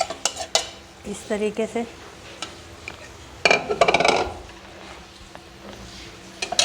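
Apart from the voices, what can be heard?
marinated keema being transferred into a cooking pot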